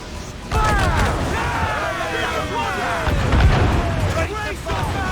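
Naval cannon fire in the Assassin's Creed 4 Black Flag sea battle, with heavy booms rolling continuously for several seconds beneath shouted crew voices and swelling ship combat noise.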